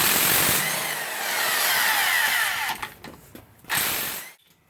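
Bolts being removed from a Toyota 7.5 front differential with a power tool: a steady, loud whirring drone that sputters, cuts out and surges briefly before falling silent.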